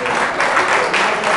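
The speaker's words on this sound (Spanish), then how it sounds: "Un aplauso para él." Brief burst of audience applause at a tango dance hall show, honoring the sound technician; a short, dense clapping wash lasting just over a second.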